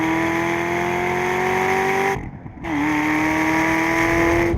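A Dodge SRT Viper GTS at speed on a race track, its engine a loud sustained drone that climbs steadily in pitch, cuts out briefly on a gear change, then pulls hard again.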